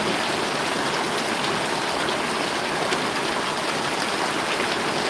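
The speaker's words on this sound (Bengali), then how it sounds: "আমাদের এদিকে অনেক বৃষ্টি আসছে" Heavy rain pours steadily, a dense, loud wash of water noise with no pauses and no voices.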